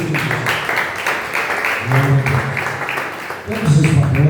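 A church congregation applauds in praise, a steady wash of clapping under loud talk and sung or chanted voices throughout.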